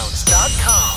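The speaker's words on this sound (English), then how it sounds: "It's like a boom with a swell" A sudden deep boom hits, then a bright shimmering swell rises with chiming tones and a sweeping whoosh, a cheer music intro sting.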